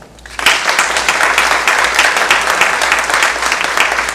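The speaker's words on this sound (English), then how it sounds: "So give her a hand." Audience applause breaks out for a woman introduced as moderator of a Black women's roundtable dialogue, a dense, steady clapping from a sizable crowd that starts abruptly and holds loud throughout.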